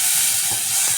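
Raisins and yogurt sizzle and crackle in hot ghee while making Eid nawabi semai, a steady close frying hiss with small watery pops throughout.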